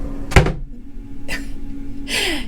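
Drawers in a cruise ship balcony cabin slide shut, three quick close sliding thuds spaced about a second apart, the first sharpest, heard alone.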